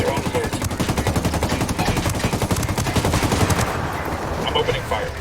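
Dense automatic gunfire from a Ghost Recon Wildlands firefight against the Santa Blanca cartel, a rapid continuous rattle of shots at close range, loud and steady throughout with faint voices beneath.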